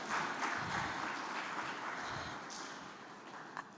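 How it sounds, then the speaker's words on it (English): Applause from a conference audience at a women's leadership forum, a soft, steady wash of clapping heard from a distance that gradually tapers off. "Let's give them another round of applause."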